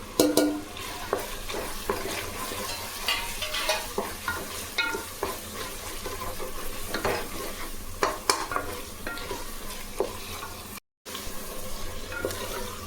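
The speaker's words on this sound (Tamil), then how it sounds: "நல்லா மசாலாலாம் எண்ணெயில் நல்லா எரிஞ்சு வந்துடுச்சு பாருங்கள்" Masala of onion, tomato and Kashmiri chilli powder fries in oil for chicken biryani. It sizzles steadily while a spoon scrapes and stirs it in repeated close strokes.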